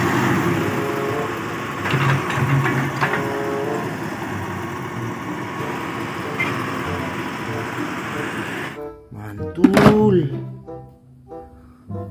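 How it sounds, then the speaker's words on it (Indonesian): Concrete mixer truck on a road, a steady broadband engine and traffic rumble running for several seconds, then a sudden drop to quieter background with a loud close thunk and brief engine bursts near the end. "Wow, ada mobil molen lagi teman-teman."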